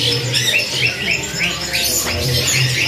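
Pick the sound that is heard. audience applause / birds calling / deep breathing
birds calling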